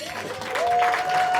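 Guests at a wedding clap for the bride, a short burst of applause that swells and holds with a steady tone running through it.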